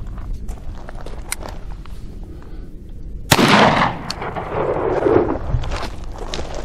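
A Rossi Brawler single-shot firearm fires a .410 buckshot shell outdoors: one loud, sharp report midway, with a short decaying echo, among faint shuffling and handling noises.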